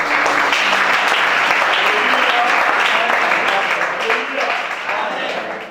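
A church congregation at a deliverance service applauds loudly and continuously, dense clapping filling the room with voices mixed in, tapering slightly toward the end.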